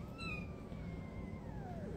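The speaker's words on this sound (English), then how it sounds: "And that angry meow." An angry cat lets out a single drawn, falling meow, faint and close-miked over a low steady room hum, with no talking during it.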